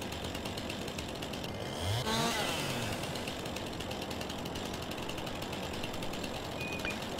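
Chainsaw in Farming Simulator 19 (LS19) cutting wood for clearing new fields, a steady mechanical buzz under game ambience with a brief louder surge of rising and falling engine tones around the two-second mark.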